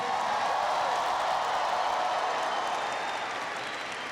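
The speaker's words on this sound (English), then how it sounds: "Can everybody please give Camille a big round of applause for that introduction?" A large crowd at Boise State applauds during a presidential speech, a broad, roaring wash of clapping and cheering in a big hall, sustained and slowly fading.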